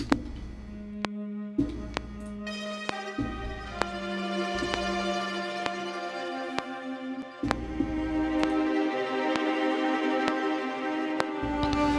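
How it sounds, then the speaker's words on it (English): Sampled cello from a Soft String Textures bank plays sustained, layered bowed notes in a steady run, close and full, over a deep low bass line, with sharp rhythmic clicks punctuating the texture and no voices. "This cello is from the Soft String Textures bank."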